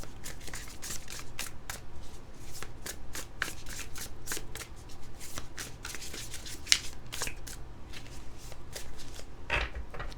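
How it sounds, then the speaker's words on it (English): Light Seers Tarot cards being shuffled by hand, a continuous close riffle of flicking, slapping card edges over several seconds with no voice heard. "let's see what I can get from the cards for you"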